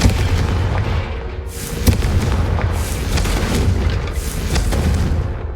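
A destructive spell tears through a room in Hogwarts Legacy, setting off a rapid series of heavy booms and crashing blasts that roll on continuously and loudly, with a sharp crack standing out partway through.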